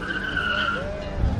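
Classic car at a rally in Güzelyurt, Cyprus, skidding as its rear end slides out, a loud steady tire squeal with a rising engine note, close by, with a voice heard faintly in the background.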